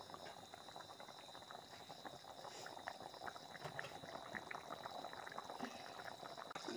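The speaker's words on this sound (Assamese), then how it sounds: "কাৰীখন উতলি আছে, দেখিছেনে? ইমান ধুনীয়াকৈ উতলি আছে" Curry boiling in a pot, a continuous faint bubbling and gurgling with a thin steady hiss, low and even with no voices.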